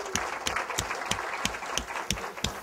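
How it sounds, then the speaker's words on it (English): Applause from a conference audience thanking the host venue at an opening session, a moderate round of clapping with distinct sharp claps over a dense patter. "so please give them a round of applause."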